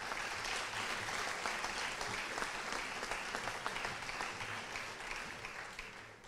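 Steady, sustained applause from a large audience at a 4-H awards ceremony honoring scholarship winners, dense and even throughout with a slight fade near the end.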